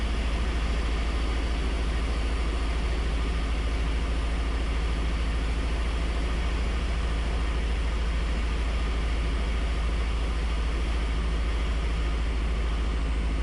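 A 200 mph aerobatic airplane's engine drones steadily at reduced power, around 1400 RPM on approach to a short runway, a loud, constant low hum filling the cabin with no talk over it.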